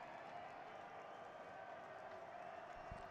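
A sparse crowd murmurs steadily at a college football game in Dana J. Dykhouse Stadium, Jackrabbits against Illinois State on Senior Day, the last home game, as a constant low wash of distant voices with no distinct cheer.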